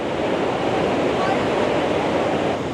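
Loud, steady roar of rushing water at Huka Falls on a river, a dense unbroken wash of noise that fills the whole scene up close, with some wind buffeting the microphone.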